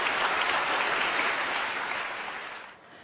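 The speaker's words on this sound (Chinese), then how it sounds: "我们掌声感谢吴佳琪所带来的表演。" Audience applause follows a stage performance at a cultural show, a dense, steady clapping from a sizable crowd that stays loud and then fades out near the end.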